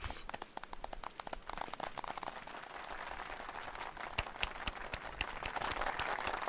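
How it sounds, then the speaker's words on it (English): A character claps in the video game Final Fantasy XIV, a steady run of close hand claps that carries on throughout without a break. "Ah, the slow clap."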